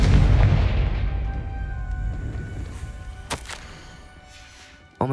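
In the Hogwarts Legacy video game, a Confringo spell explodes with a heavy booming blast that rumbles and fades, followed by a sharp crack, then another hit right at the end.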